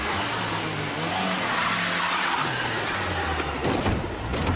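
A car engine starts and the vehicle pulls away at speed during a police surveillance stakeout of an armed suspect, with a steady low engine drone and what sounds like tyre noise building near the end.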